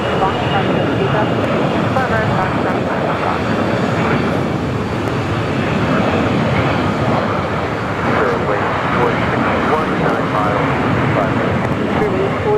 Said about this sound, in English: Here we have a corporate jet rolling down to 25 right.